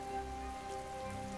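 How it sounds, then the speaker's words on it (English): Light rain patters steadily outside a house in the early morning, a soft, continuous hiss of drops heard faintly from indoors with a low hum underneath. "the light pitter-patter of rain outside kind of echoes through the house"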